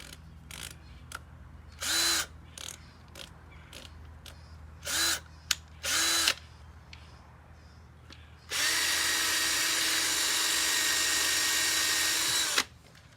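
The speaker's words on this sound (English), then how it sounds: "I'm just gonna drill" Several short bursts of a power drill whirring, then one long steady drilling run lasting about four seconds, close and loud with no talking.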